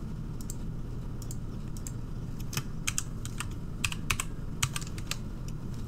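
Computer keyboard typing, a steady stream of close clicking keystrokes with a few louder taps, over a low background hum, no talking.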